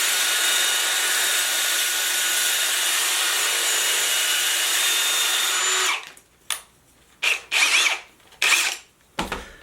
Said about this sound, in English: final step, a little bit of sandpaper